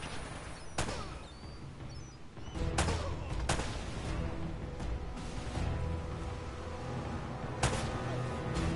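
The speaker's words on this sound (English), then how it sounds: "I can shoot this guy." Gunshots in Uncharted crack out irregularly, with about six sharp loud reports spread over several seconds against a busy background of game noise.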